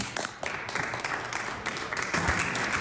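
Members of a provincial legislative assembly applaud in the chamber, a moderately loud, continuous patter of clapping with some desk-thumping-like knocks, heard across the room.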